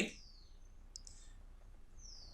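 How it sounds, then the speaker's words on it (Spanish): Computer mouse clicks on an OK button in a quiet room, a few faint, sharp clicks with short high chirps. "Voy a hacer clic en OK."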